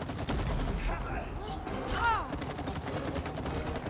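Rapid gunfire rattles in a video game in quick, dense bursts, with voices talking over it.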